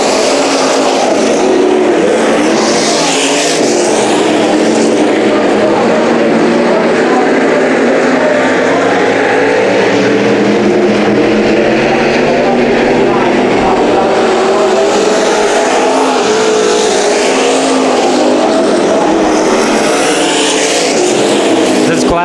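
IMCA stock cars race on the Bakersfield dirt track, their engines roaring loud and continuous as the pack circles, with rising and falling surges as cars pass. A commentator talks over the noise.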